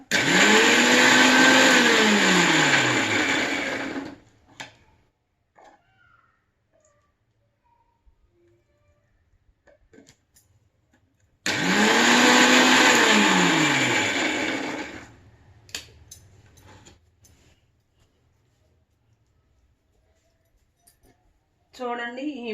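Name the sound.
mixie grinder blending green chilli pickle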